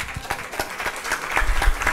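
Audience applause at a Brazilian round-table on education, culture and aesthetics, a brief burst of scattered clapping that swells slightly toward the end.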